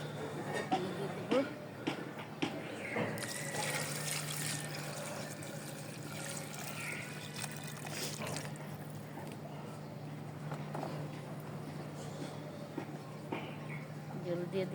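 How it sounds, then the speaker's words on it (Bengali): Water is poured into a pan for duck curry gravy, trickling and splashing softly at close range in several bursts, with kitchen handling noises in between. "পানি দিয়ে দিব।"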